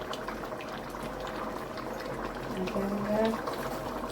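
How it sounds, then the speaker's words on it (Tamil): Tin fish curry simmering in a covered pot on the stove, a soft steady bubbling under low broadband noise that runs the whole time, with voices faintly present. "நல்லா கொதிச்சிட்டார்"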